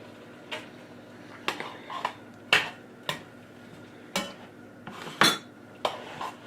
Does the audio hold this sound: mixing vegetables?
yes